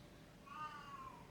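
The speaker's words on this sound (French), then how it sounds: "mon chat qui gueule" A single drawn-out meow from a house cat, faint and somewhat distant in a quiet room, with no speech over it.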